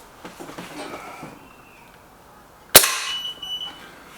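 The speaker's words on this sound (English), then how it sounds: "And the last shot," A Lee Enfield Sentry air rifle fires a single test shot, a sharp loud crack with a short ringing tail, preceded by quiet room noise and faint movement.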